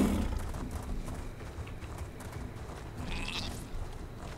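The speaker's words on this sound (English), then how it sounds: "Oh, we got goats. Nice." Goats bleating in the Elder Scrolls Online video game, a few bleats over a low background of ambient game sound.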